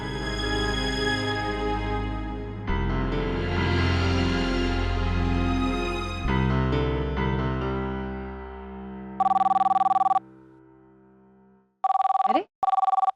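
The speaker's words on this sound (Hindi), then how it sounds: "सुबह सुबह किसने फोन कर दिया?" A telephone rings in two short electronic bursts in a TV drama scene, coming in after a stretch of loud music.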